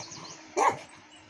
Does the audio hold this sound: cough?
no